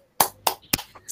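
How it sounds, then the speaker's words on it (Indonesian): Pupils in an online class do a rhythmic spirit clap, three sharp, evenly spaced claps with a softer fourth at the end, fairly close and alone without talk. "Ayo mari kita sama-sama tepuk semangat dulu ya."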